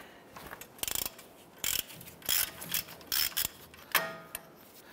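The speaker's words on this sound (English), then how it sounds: "Let's go ahead and loosen this nut." Ratchet wrench with a 21 mm socket loosening an axle nut on a 2011-2018 Ram 1500 front end, giving several bursts of close, loud clicking separated by short pauses, with no talk.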